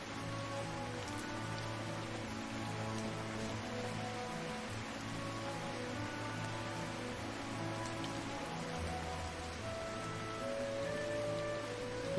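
Rain in the cat farming RPG Kitaria Fables, a steady patter of raindrops on surfaces that runs evenly for about twelve seconds under soft background music, with no talk.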